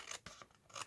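Scissors snipping around the edges of a paper window envelope being altered for a floral journal, giving a few close, crisp cuts in quick succession with brief pauses between them.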